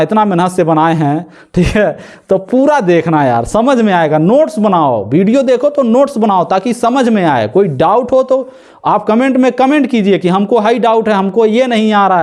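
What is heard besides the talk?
None of the usual background noises is heard.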